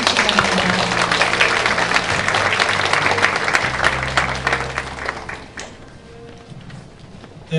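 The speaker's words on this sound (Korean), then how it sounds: "큰 박수로 맞이해 주시기 바랍니다." An audience at a Seoul forum for people aged 50 and over applauds loudly in a dense, steady wash of clapping that thins out and fades after about five seconds.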